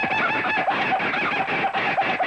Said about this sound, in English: That's the Australian kookaburra